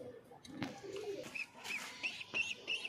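Pigeons at a breeding farm give soft, repeated cooing calls close by, with a few faint knocks and rustles between the coos.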